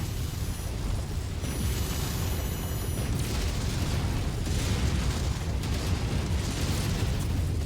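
Rumbling explosions and heavy mech combat noise in MechWarrior 5: Mercenaries, a dense continuous roar with bursts of louder blasts and a brief thin high whine early on, no talking.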